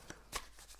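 Tarot cards being shuffled, two quick soft riffling bursts close by and faint, in an otherwise quiet moment.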